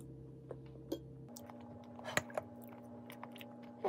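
Close, quiet chewing of cheesecake with a crunchy, sweet crumble topping: soft crunches and bites scattered over a low steady background, with no talking.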